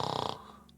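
A voice imitates snoring during a tabletop roleplaying session set in the Elder Scrolls world: a brief, close, raspy rhythmic snore lasting well under a second, fading into quiet.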